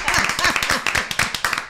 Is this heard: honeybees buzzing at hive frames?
no